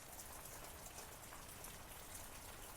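Rain falling outdoors as a steady, even hiss of many drops, constant throughout and fairly soft, with no voices.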